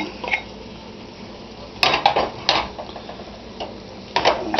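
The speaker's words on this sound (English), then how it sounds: "Stir it in there. Get it going real good." Metal utensil scrapes and knocks against a pot as cooked Cajun trinity vegetables are stirred in for a brisket pie casserole, several close clattering strokes in irregular bursts.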